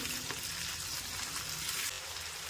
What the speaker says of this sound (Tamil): சின்ன வெங்காயம் போட்டு நல்லா கொஞ்சம் வதங்கிட்டோம் பாருங்கள்